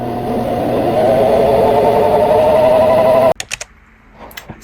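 Sewing machine motor winding a bobbin, a steady loud whirring hum with a slight rising pitch for about three seconds, then cutting off abruptly into a few faint clicks and handling sounds.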